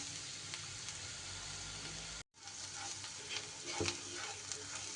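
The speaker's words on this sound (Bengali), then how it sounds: "পেঁয়াজটা যখন এইভাবে লাল লাল হয়ে যাবে, বেশ ভাজা ভাজা হয়ে গেছে দেখুন" Onions frying in a pan until reddish-brown for an egg dish, a steady loud sizzle with stirring scrapes and a brief dropout partway through, no talking.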